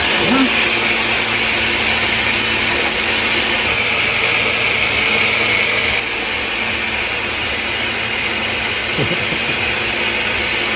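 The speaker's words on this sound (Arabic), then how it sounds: "هلا الخلط خلوه على القوي لحتى البياض البيض يصير مثل الكريمه" An electric mixer on high speed whips egg whites for Syrian garlic mayonnaise, a loud steady whirring drone that holds constant throughout, close to the microphone, with a brief faint voice.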